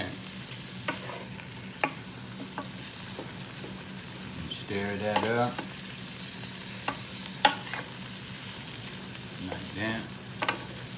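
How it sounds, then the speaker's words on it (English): Shrimp alfredo being stirred in a Power XL cooker, with soft scraping and clinking of the utensil over a low steady sizzle and a few sharper knocks, under a man's occasional speech. "I'm gonna do a little stir on this."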